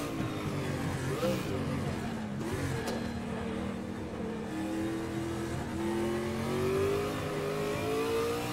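A Ford Mustang IMSA GTO race car in Raceroom revs its engine at Mid Ohio, and its steady drone climbs and sags in pitch with the throttle.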